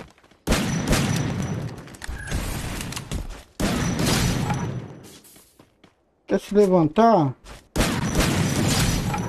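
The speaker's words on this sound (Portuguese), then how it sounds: "É tiro de todo lado, é?" Dense gunfire erupts from all sides in the Free Fire mobile battle game, with long sustained bursts broken by short gaps and a player speaking over it.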